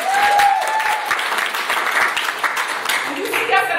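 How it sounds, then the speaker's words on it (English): Audience applause fills a room at a bra product presentation, a steady wash of clapping with a cheer or whistle near the start and a voice speaking over it near the end. "give Ardyss International a round of applause"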